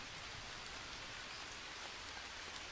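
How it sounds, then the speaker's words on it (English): Steady rain falls in the jungle survival game Green Hell, a dense even hiss of drops that holds at the same level from start to finish, soft and ambient, with no voices. "Aw, man, the rain."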